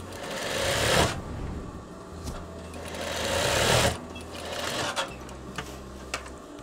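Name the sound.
sewing machine stitching firm fabric for a veterinary coverall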